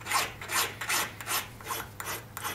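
A riffler file breaks edges and removes burrs on a metal wire threading tool, giving about seven short, close scraping strokes in a steady rhythm.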